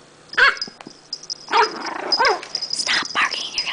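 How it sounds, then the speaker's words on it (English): A small chihuahua yaps and whines in several sharp, high barks close by, with a person's voice mixed in. "Stop barking."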